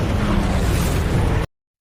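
An aircraft explodes during an attack on a military training flight, giving a loud, continuous broadband roar that holds steady for about a second and a half and then cuts off abruptly.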